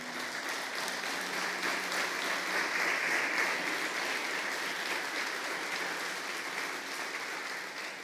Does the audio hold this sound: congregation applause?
yes